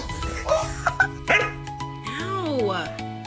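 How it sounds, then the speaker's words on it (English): A pet dog at home growls and gives a few short yips and barks in uneven bursts, close by, mixed with a person talking. "Oh, you growling at me?"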